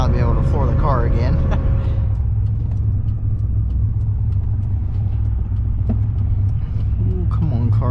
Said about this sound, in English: Finally be able to floor the car again.